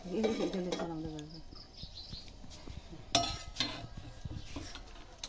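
Rice and water in a small pot on a gas stove are stirred with a spoon, making light clinks and soft scrapes against the metal. A brief voice is heard at the start, with faint birds or insects behind.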